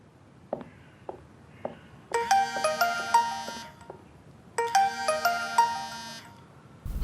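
A melodic phone ringtone for an incoming call plays in two bursts of repeated chiming notes, loud and close, separated by a short pause, with a few soft clicks and knocks before it.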